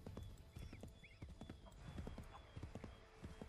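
Quick clip-clop of a horse galloping in Assassin's Creed III Remastered, a steady run of hoofbeats, with a faint neigh near the start and game ambience behind, no voices.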